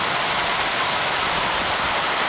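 Storm water gushing and overflowing from a drain pipe during a lightning storm, a steady loud broadband rush with no pauses, close and continuous.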